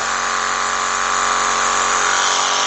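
A reciprocating saw cuts through a tree branch with a steady, loud, high buzzing drone close by, running continuously without pause.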